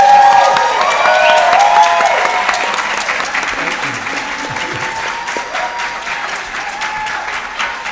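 Loud, dense applause from a convention audience for a panel guest introduction, with some cheering, fading slightly as it continues over several seconds.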